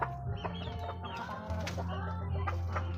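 Several hens cluck and chatter close by, overlapping calls in a busy, continuous flurry.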